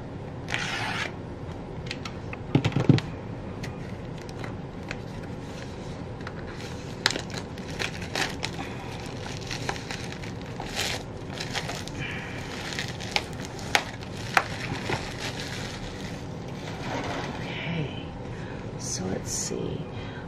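A Christmas happy mail box of stationery being opened by hand, with crinkling paper and plastic rustles, scraping and a few sharp tearing bursts running steadily throughout, close and fairly quiet under occasional light talk.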